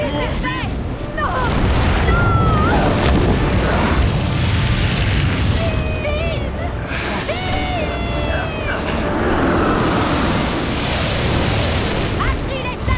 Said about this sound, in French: Faut une plus grosse explosion!